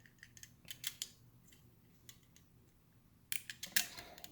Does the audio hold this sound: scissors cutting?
yes